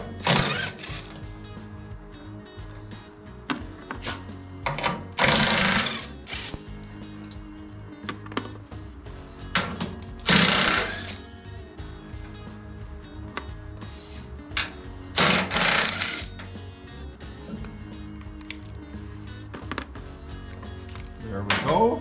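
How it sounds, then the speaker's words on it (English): Four bolts are pulled from a saw that has a diving blade. There are repeated metallic ratchet and wrench clicks and clunks, with three louder bursts of rattling work spaced about five seconds apart and a steady hum underneath. "First, I've got to pull 4 bolts."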